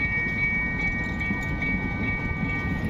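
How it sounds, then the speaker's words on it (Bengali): A train approaching at a crossing near Cox's Bazar, a steady low rumble of wheels and carriages in the distance, with a faint continuous tone above it. "ট্রেনে চলে আসছে এদিক দিয়ে"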